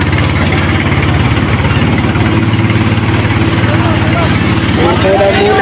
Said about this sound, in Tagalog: naka-under na po ang bangka ni Badi Tubal, ang makina.